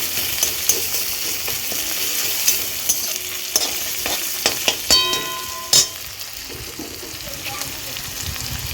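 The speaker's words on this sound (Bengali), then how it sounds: "আদাটা ভালো করে" Continuous hiss of ginger frying in hot oil, with a spatula scraping and clanking against the pan as it is stirred.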